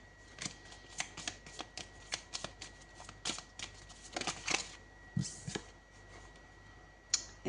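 Tarot cards riffled and shuffled by hand in a quiet room, a run of crisp papery flicks and slaps at an uneven rhythm, close and clear, ending with a few separate card snaps as cards are drawn.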